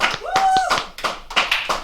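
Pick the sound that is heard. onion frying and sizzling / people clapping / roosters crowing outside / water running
people clapping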